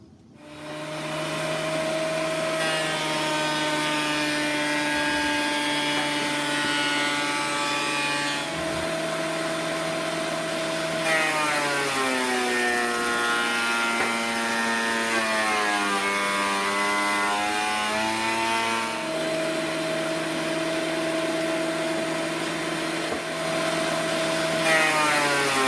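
Old Delta woodworking machine feeding wood pieces continuously: a steady, loud mechanical whine with a constant drone, its pitch dipping and wavering as each board passes through the cutter, running uninterrupted with no talking.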